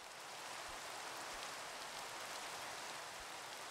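Rain falling in the Minecraft video game, a steady soft hiss of dense drops, quiet and unbroken throughout with no voices.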